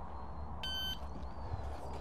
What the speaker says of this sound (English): timer goes beep, all gear in hand.